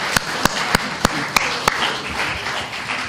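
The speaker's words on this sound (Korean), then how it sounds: "박수 한번 치고 갈까요?" At a joint party rally in Busan for leadership candidates, an audience claps in unison: about six sharp, evenly spaced loud claps, then a softer murmur of scattered hands and voices.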